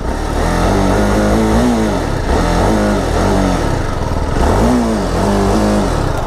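A TVS Apache RR310 BS6 motorcycle engine revs repeatedly, loud and close, rising and falling in pitch with a deep bassy exhaust tone and no voices over it.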